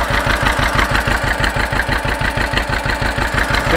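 A John Deere 530 tractor engine, freshly overhauled, runs steadily at idle, putting away with an even, rapid rhythmic chugging close by, loud and alone.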